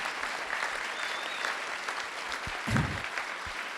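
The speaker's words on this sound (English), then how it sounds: "Would you give him a clap, please?" An audience at a youth engagement summit claps, giving a steady, moderately loud spread of applause that carries through the whole stretch, with a brief low bump of noise near the end.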